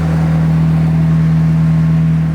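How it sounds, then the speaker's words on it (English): Radiator cooling fans on a rebuilt, previously wrecked McLaren 720S run loudly with a close, steady, jet-like whirring drone and a strong constant hum, with no break throughout. "The radiator fans are crazy. These suck."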